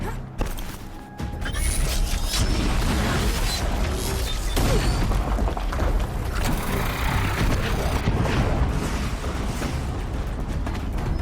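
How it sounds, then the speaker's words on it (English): An explosion in the video game Horizon Zero Dawn, a loud, dense sustained rumble with crackling debris and mechanical noise that starts with a sharp hit and rolls on continuously without letting up. "An explosion."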